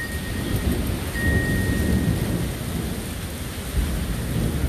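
Austin thunderstorm with heavy rain pouring steadily onto surfaces and deep rolling thunder rumbling underneath, loud and continuous, with no one speaking.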